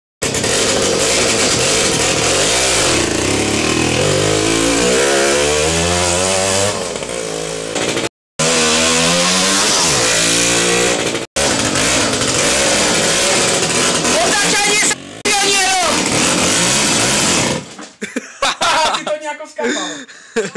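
A Jawa 20 motorcycle's small two-stroke engine runs loudly and close, rasping and revving up and down in a continuous buzz with a few brief cuts, and dropping to sputtering near the end; voices laugh over it.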